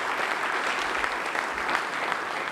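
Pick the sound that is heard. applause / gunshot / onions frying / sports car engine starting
applause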